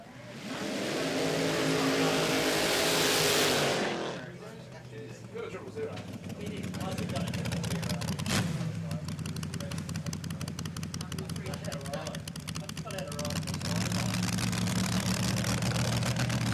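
Modified drag race cars roar loudly on track at a Willowbank Raceway drag racing meet in Queensland. A heavy engine blast dominates the first few seconds, then a steady engine drone continues beneath an announcer talking.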